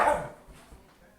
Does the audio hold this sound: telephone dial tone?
no